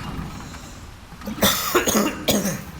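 A person coughs in a few harsh bursts, close and loud, after a quieter stretch of background sound.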